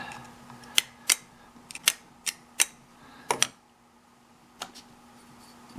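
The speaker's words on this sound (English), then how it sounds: "I just use a Stanley blade or something like that. Cut off both sides." A Stanley blade cuts the varnished tips off bobby pins: a series of sharp, small snips and clicks, scattered and irregular, fairly faint against a quiet background hum.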